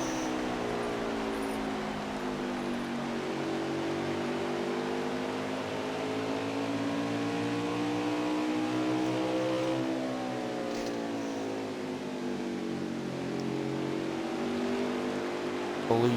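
Pickup truck race engines roaring around Richmond's oval during a night race, a continuous loud drone with rising and falling pitch as the trucks sweep past, heard alone without talk.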